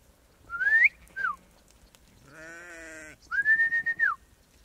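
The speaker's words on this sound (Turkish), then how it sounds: "Bak şu koyun." Sheep in a village on Gökçeada island bleating several times in the open, near and clear, with a couple of short calls, a longer wavering bleat, then a final drawn-out cry.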